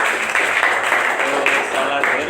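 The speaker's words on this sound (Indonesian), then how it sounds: "beri tepuk tangan untuk Arfan." A classroom group claps for a student, a dense, steady burst of many hands applauding close by for about two seconds.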